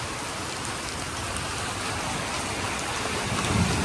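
Steady rain falls at night during a pilgrimage walk near Arunachalam, a dense even hiss of drops with no pauses and no voices.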